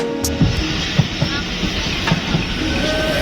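A train rolls through a deep dark night on the line from Lahore toward Rawalpindi, a steady rumbling hiss of wheels and carriage with faint rhythmic clacks and occasional thumps, close and continuous throughout.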